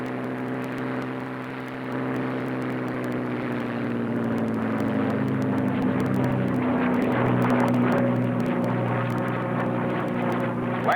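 A propeller warbird airplane's engine roars during takeoff, a loud steady droning drone with a throbbing harmonic whine that swells slightly in power, heard from inside or close to the aircraft without talking.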